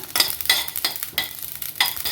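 Whole fenugreek, black pepper and mustard seeds dry-roasting in a hot clay pot, with rhythmic scraping stirs and light crackling repeating about every half second, close and clear with no talk.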